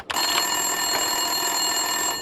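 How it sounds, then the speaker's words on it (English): An office telephone rings inside the Max Payne 2 video game, a steady electronic trill that sounds continuously and fairly loud from start to end with no speech over it. "Winterson's phone was ringing."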